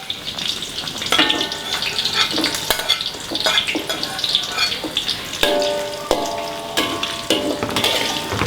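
Garlic sizzles and fries in a pan while a utensil stirs it, scraping and clinking against the pan at intervals over a steady close frying hiss; no talking.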